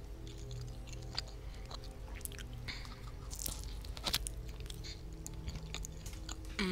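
Close-up chewing and crunching of pizza, with repeated moist bites and crisp crust crunches throughout, set over a steady low background hum from a Five Nights at Freddy's 4 game.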